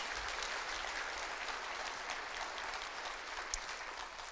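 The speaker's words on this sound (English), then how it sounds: "How about a big round of applause for AECOM?" Steady round of applause from a luncheon audience at a floodplain managers' conference, continuous and fairly distant, sustained evenly throughout without speech.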